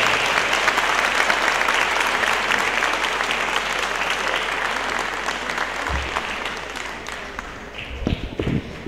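An audience applauds after a Holy Week proclamation speech, a full, dense clapping that gradually thins and fades, followed by a few scattered claps and thumps near the end.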